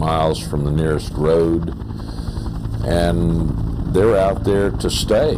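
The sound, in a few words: helicopter flying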